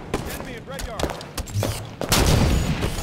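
Halo 5 2v2 match gunfire, several quick bursts and shots with a heavy boom near the end, mixed over excited talk.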